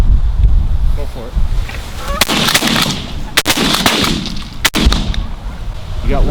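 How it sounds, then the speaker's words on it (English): Shotgun blasts aimed at a flock of geese outdoors in the wilderness, several sharp loud reports spread irregularly over a gusty windy background with some talking. "That's a lot of shooting for one bird."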